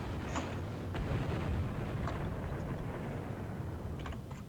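Explosions in the shoot-'em-up game Under Defeat HD, a faint, continuous low rumble of blasts with a few sharper pops scattered across it, quiet and distant-sounding.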